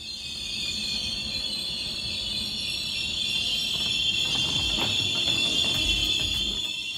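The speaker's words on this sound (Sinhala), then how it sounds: "මේ කෝච්චිය ඇවිල්ලා ඔස්ට්‍රියන් කෝච්චියක්. ඒකට කියන්නේ රේල් ජෙට් කියලා." An Austrian Railjet train travels through the Alps with a steady interior rumble, a high whining tone over the top and faint rattles, droning continuously without talk.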